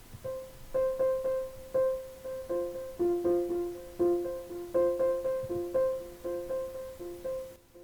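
Air Piano synth instrument in Reaktor played through an analog triolet delay preset, a repeating pattern of soft plucked notes with echoing repeats in a steady, lilting rhythm, fairly quiet and alone.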